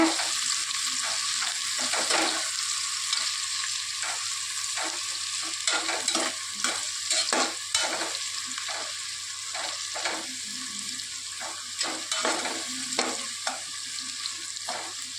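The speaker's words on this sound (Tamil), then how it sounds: "வெங்காயம் நல்லா வதங்கி பொன்னிறமாக வரணுங்க" Sliced onions sauté in a pan for chicken biryani, a steady hiss of frying broken by frequent scraping stirs throughout, close and fairly loud, with no talking.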